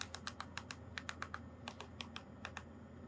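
Quiet, close computer keyboard typing, roughly twenty crisp keystrokes in quick irregular bursts over a low steady background hum, no talking.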